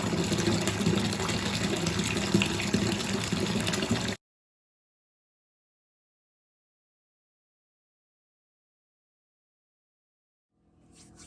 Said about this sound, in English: I'm gonna take a shower